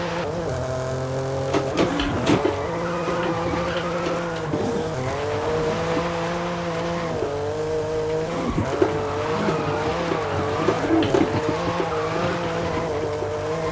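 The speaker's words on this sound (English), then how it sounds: "I actually ended up going back to drifting the car in the free room." A revving G80 BMW M3 engine in a video game whines and shifts pitch continuously while tires squeal and skid throughout a drift, loud and steady with no talking.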